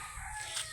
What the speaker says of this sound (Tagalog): Naririnig niyo po yung huni ng ibon.